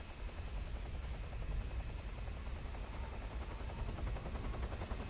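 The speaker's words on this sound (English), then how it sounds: "Yeah, there's the chopper." A helicopter arrives in the Metal Gear Solid 3 video game, its steady rotor chop and engine roar running loud and continuous with a rapid pulsing texture and no talk over it.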